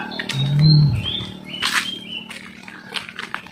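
Several short, bright bird chirps and whistles ring out close by, scattered over a low steady hum.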